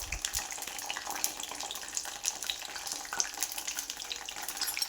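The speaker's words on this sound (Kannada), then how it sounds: "ಈ ಥರ ಬಿಟ್ಕೊಂಡ್ಬಿಟ್ಟು ಒಂದು ಸ್ವಲ್ಪ ಫ್ರೈ ಆಡಿಸ್ಕೊಳ್ಳೋಣ" Young brinjal (eggplant) pieces fry in a pan with a steady, dense sizzle and crackle that holds for the whole stretch, close and fairly loud, with a few soft knocks at the start and no voices.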